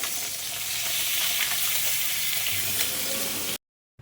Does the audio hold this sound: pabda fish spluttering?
yes